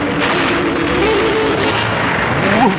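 Cannon fire booms out in a cartoon military-barracks attack scene, a loud, continuous rumbling barrage with a rising whistle toward the end.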